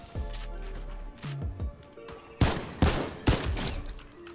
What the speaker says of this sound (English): They just threw an airstrike.